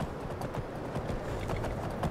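Horse hooves clop in a steady walking rhythm in a video game, moderately close and even, with nothing else competing.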